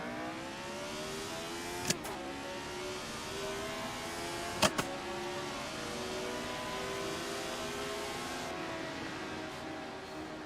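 A race car engine in a racing video game drones with rising and falling revs through gear changes, steady and moderately quiet, broken by a couple of sharp clicks.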